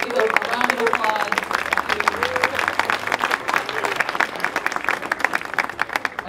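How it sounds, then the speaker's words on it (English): Applause rolls through the audience at a community pool groundbreaking ceremony, continuous clapping from many people with voices talking over the start. "But let's do a round of applause."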